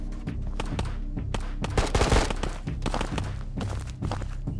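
Gunfire in the video game Ghosts of Tabor, a quick string of sharp shots with a denser burst partway through, fairly loud and close over a steady background hum.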